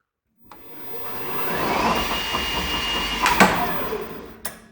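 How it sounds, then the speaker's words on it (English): Electric motor on a lithium-converted Columbia ParCar golf car whirs up and hums steadily, with a couple of sharp relay clicks near the end; close and moderately loud, no talk. "as you can see, you can hear the relay click."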